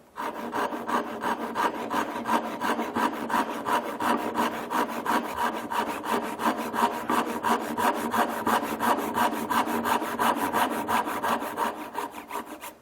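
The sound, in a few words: hand saw cutting wood for a dovetail joint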